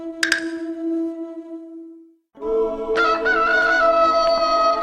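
A rooster crows twice: a first drawn-out call with a sharp start that fades, a brief gap, then a louder, fuller second crow ringing on to the end.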